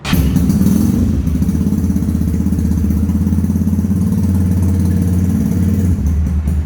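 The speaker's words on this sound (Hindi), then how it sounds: "यूज़ बाइक है, फर्स्ट क्लिक पे स्टार्ट हो गया" A used Kawasaki Ninja 250cc replica motorcycle engine idles steadily and loudly up close, a continuous low throbbing chug with a slight mechanical clatter, no voices.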